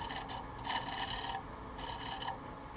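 A wooden yarn bowl spinning on a lathe is scraped by a cutting tool, giving a steady, close rasping scrape with slight surges as the tool bites, and no voices.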